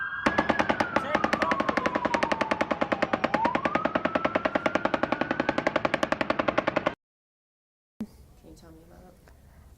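Rapid automatic gunfire from the Las Vegas mass shooting, a long, steady string of sharp shots with a tone sweeping under it, cuts off abruptly; after a silent gap, faint voices and a single crack follow.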